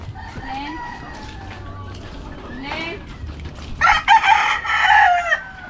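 Chickens cluck and a rooster crows near a house, the calls rising and falling over several seconds while people talk nearby.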